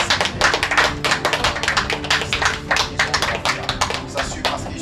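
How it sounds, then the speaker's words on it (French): Audience clapping at an interschool final, a dense run of sharp hand claps at steady, fairly close volume with no talk over it. "J'aimerais qu'on applaudisse très fort"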